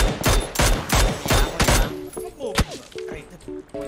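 Rapid gunfire coming from a house in PUBG, five loud, evenly spaced shots in quick succession followed by one more crack amid game sounds, with voices speaking briefly.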